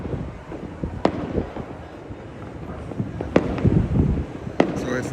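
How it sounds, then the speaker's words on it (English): Personal fireworks go off across a Trinidad New Year's Eve night, with sharp scattered bangs and firecracker pops near and far over a constant rumbling crackle and some wind noise. "This is personal fireworks being set off."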